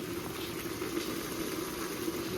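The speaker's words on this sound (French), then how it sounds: "Ça mijote." Food simmers in a pot, giving a soft, steady bubbling hiss throughout at low volume with no talk.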